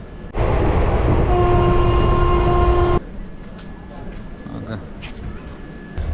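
A passenger train on the Davangere to Bengaluru route stands at Kadur junction, with a loud, steady engine rumble and a sustained horn blast for about two and a half seconds, then fading to quieter station ambience with faint voices.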